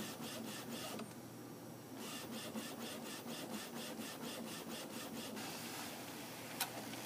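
Epson printer printing an image, its print head making rapid rhythmic scraping passes in regular bursts with a short pause, faint mechanical rubbing against a quiet room.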